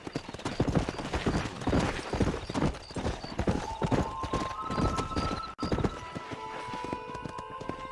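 A horse gallops in the Red Dead Redemption video game, its quick rhythmic hoofbeats loud and continuous, with a brief whinny as game music swells in toward the end.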